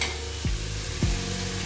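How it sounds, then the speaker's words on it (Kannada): Chopped raw papaya sautés in a pan with a steady, close sizzle, broken twice by quick scraping strokes of a spoon or spatula. "ಪಪ್ಪಾಯಿ ಹೆಚ್ಚಿಟ್ಕೊಂಡಿದ್ನಲ್ಲ ಅದನ್ನು ಹಾಕ್ತಾ ಇದ್ದೀನಿ. ಅದು ಬಾಡ್ತಾ ಇದೆ."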